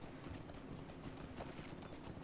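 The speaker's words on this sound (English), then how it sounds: "I'm riding a Stable Master's horse" A horse's hooves clip-clop steadily in the game Lord of the Rings Online while a Stable Master's horse is ridden, a soft, even rhythm over low background noise.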